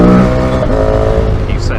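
A motorcycle on Dunlop Trailmax Raid tyres rides along a road with cold tyres, its engine droning loudly and steadily amid wind rush, while a rider talks over it.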